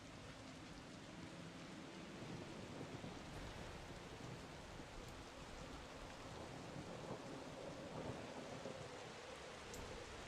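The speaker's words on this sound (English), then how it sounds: "Another storm was brewing." Rain and rolling thunder from a storm in the video game Dungeons 4 form a continuous, dense wash of noise, fairly faint and even throughout, with no voices.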